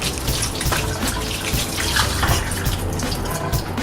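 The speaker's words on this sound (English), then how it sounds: "rinse off the grater" A metal grater is rinsed under a running kitchen tap, with steady close water spray and splashing that carries on throughout without talk.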